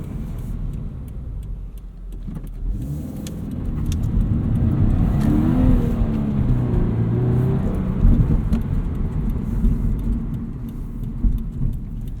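A 2018 Subaru BRZ tS engine revs hard and climbs steadily under full throttle in second gear, a loud, sustained roar close by with no talking.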